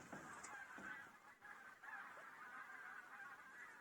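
Geese honk faintly in the distance, a scattered chorus of calls overlapping one another from a flock passing overhead on an October evening in the Komi Republic.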